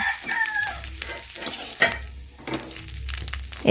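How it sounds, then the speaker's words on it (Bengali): Fried fish being turned and lifted from a pan with a spatula, a close sizzle of hot oil broken by scraping and clattering strokes. "এখন আমি খুরপি দিয়ে এইভাবে নাড়াচাড়া করে দেখুন তুলে নিচ্ছি"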